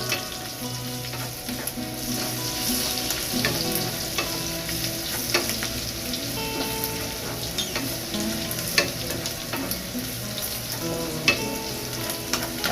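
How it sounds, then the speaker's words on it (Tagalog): Carrots and pancit made with spaghetti pasta frying in a pan, stirred steadily, with a constant sizzle and scraping stir sounds up close and no talking. "haluin na natin"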